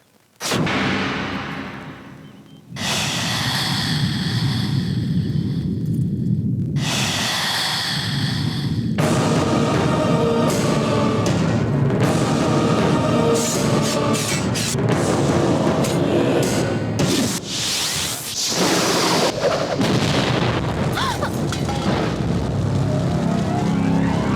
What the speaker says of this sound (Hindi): तो ये बिजली कहाँ से गिरी?